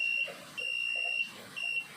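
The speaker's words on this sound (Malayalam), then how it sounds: "ഇപ്പോൾ കേട്ട പോലെ ഒരു ബീപ്പ് സൗണ്ട് കേൾക്കാം" A vehicle's warning beep sounds right after its battery cut-off switch is turned on: three steady high-pitched electronic tones, the middle one longest, close and clear with no talk.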